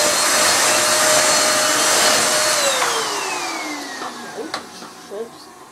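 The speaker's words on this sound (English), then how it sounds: "it is a vacuum cleaner" A Hyundai VC008-1 vacuum cleaner whines loudly up close, then its motor winds down, pitch sliding lower as it spins to a stop, followed by a few clunks.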